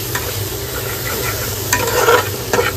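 Mushroom masala with turmeric is stirred in a frying pan, a continuous close sizzle with scraping spatula strokes that grow busier toward the end, heard alone.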